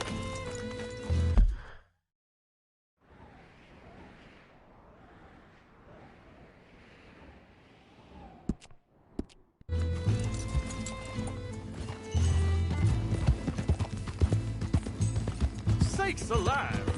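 Horse hooves clip-clopping with an occasional neigh in Red Dead Redemption II on PS4. The sound is set among game ambience, cuts to near-silence midway, then returns with fuller sound and voices.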